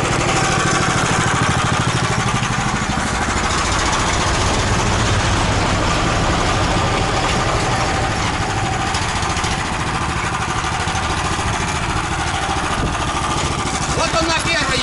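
Homemade tractor engine chugging in first gear, a loud, steady low rumble with rattling mechanical clatter running continuously up close.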